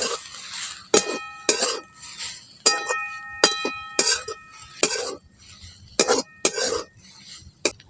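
A utensil scrapes and clinks against a kadai while grated coconut is dry-fried for Ganesh Chaturthi modak. The bright metallic taps and ringing knocks come in irregular clusters, with softer stirring and scraping between them.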